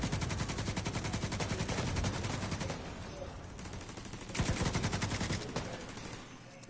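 AK rifle fire in The Division 2 rattles out in dense automatic bursts, loud and close, with a short lull midway before another rapid volley.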